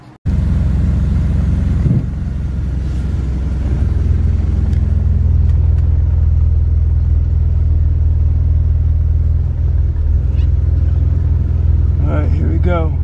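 A BMW car on a test drive gives a loud, steady low engine rumble heard from inside the cabin, holding a constant drone throughout.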